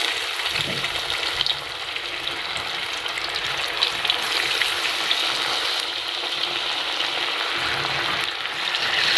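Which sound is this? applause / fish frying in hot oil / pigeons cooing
fish frying in hot oil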